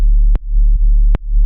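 A regular sub bass at the start of an electronic drop: a loud, sustained, deep tone, briefly cut twice by short gaps and clicks, then resuming at full strength.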